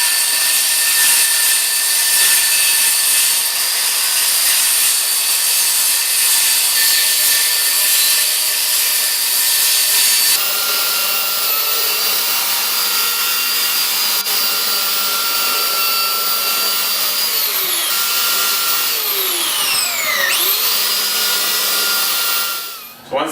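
An Onyx shower wall panel being cut along a taped mark, with a steady, loud, high-pitched whining saw drone that shifts pitch partway through and sweeps as the cut finishes, running nearly the whole time.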